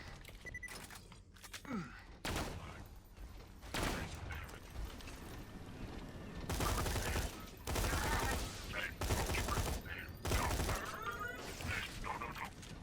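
Bursts of Torgue assault rifle gunfire in the Borderlands 2 shooter game: repeated loud volleys and rapid fusillades across the span, separated by short pauses.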